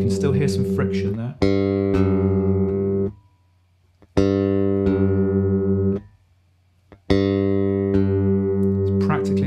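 Bass guitar strings slightly out of tune being plucked repeatedly while tuning, each note ringing for a couple of seconds with a faint wobbling beat, separated by short pauses.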